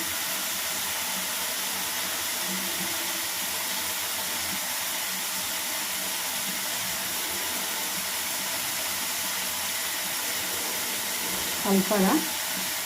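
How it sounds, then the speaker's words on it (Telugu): Besan batter is poured into soft-cooked tomatoes and stirred in a hot pan, giving a steady, even sizzle throughout, with a brief scraping stir near the end. "టమాటా ఒక 2 మినిట్స్లో మంచిగా మెత్తగా ఉడుకున్న తర్వాత బేసన్ కలిపి పోసుకున్నాం."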